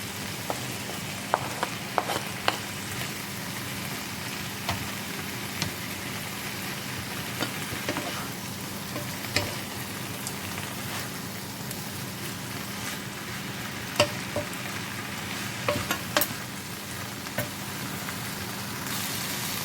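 Tomato stir-fried with baby pakchoi in a pan: a steady, dense sizzle runs throughout, dotted with occasional soft clicks and taps of stirring.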